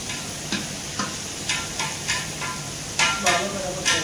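Spice paste fries in a pan with a steady soft sizzle while a spoon scrapes and stirs in regular strokes roughly every half second, clinking against the metal; a voice talks quietly alongside.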